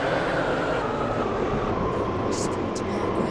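A train pulls into a station in the Stepford County Railway video game on the Waterline route, its steady rolling rumble and hum continuing throughout, with faint hissing bursts near the end.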